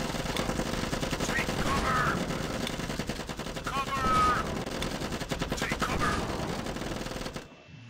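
Sustained automatic gunfire in the Zombie Defence game, one gunner firing steadily at a horde, a dense continuous rattle that holds for several seconds before cutting off abruptly.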